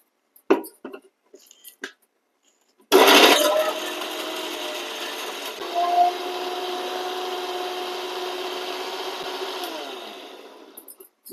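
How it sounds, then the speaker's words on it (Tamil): A mixer grinder grinding coconut whirs loudly and steadily for several seconds, its motor pitch shifting slightly midway, after brief soft clatter, then cuts off. "நம்ம தேங்காய் அரைச்சிடலாம்."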